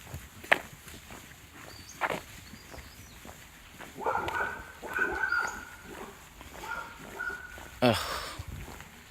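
Dogs on a trail bark and whimper in scattered bursts, mixed with footsteps and brief human voices at moderate distance.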